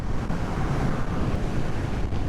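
Strong, continuous wind buffeting the microphone while riding a Suzuki Avenis 125 scooter, with a low, rumbling roar and no voices.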